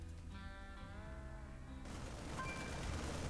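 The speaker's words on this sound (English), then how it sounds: "The Marine's going to be starting to shoot away at these rocks over here." Marines in StarCraft II fire at destructible rocks, a steady stream of rapid in-game gunfire that is continuous and fairly loud across the whole stretch, layered under a game soundtrack with faint tonal music early on.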